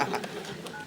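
A quick run of telephone keypad tones as a number is dialled, a few short beeps in under a second at moderate level.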